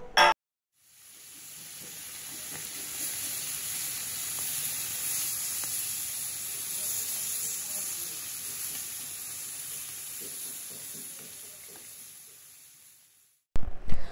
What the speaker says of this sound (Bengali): এখানে হচ্ছে আলু আর পটল ভাজি করতেছি, একটু জিরে ফোড়নে আলু আর পটল সুন্দর করে ভেজে নিতে হবে